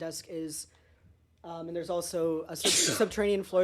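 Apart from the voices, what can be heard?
sneeze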